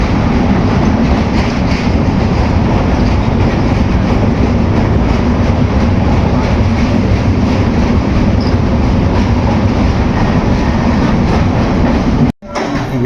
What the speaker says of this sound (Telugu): వివేక్ ఎక్స్ప్రెస్ విజయవాడ రైల్వే స్టేషన్లోకి అయితే చేరుకుంది